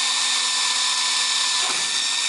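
Steady high whine of a power drill running continuously while drilling for an RV window installation, with a brief change in tone near the end as the bit bites.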